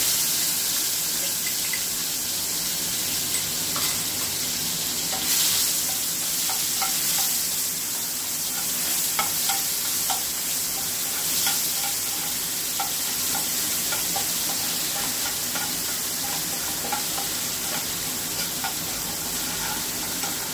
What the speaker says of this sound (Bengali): পেঁয়াজটা একটু নেড়ে নিয়েছি